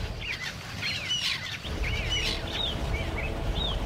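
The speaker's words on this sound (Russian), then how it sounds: "Птички поют." Birds on an island sing in quick, bright chirps and whistled trills, several overlapping calls repeating over a low, steady outdoor background.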